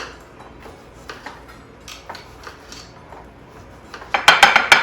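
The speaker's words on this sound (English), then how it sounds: "And Jackie, you keep on mincing." Knife chopping and mincing on a cutting board, a faint scattered tapping at first that turns to a louder, quick run of chops near the end, with no talking.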